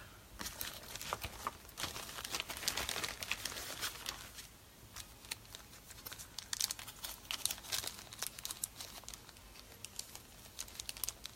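Licorice Journey craft tape is torn and pressed down by hand, giving quiet, scattered crinkling and papery rustles with brief tearing bursts, close up and without talk.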